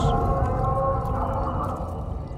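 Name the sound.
whale vocalization under an Underdark lake in Baldur's Gate 3 video game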